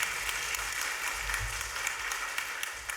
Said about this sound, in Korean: 우리 박수 한 번 더 해요.